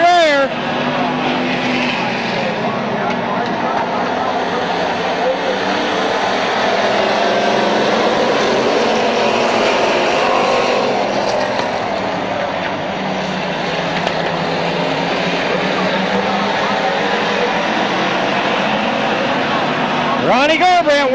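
Race cars roar around the track at Midvale Speedway in 1995, a loud continuous engine drone with passing swells, under constant race commentary from an announcer calling drivers and positions.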